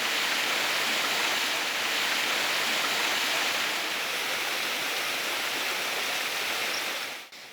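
Forest stream rushing over rocks beside plants and leaves, a dense, steady, loud wash of flowing water that continues without pause and stops abruptly at the end.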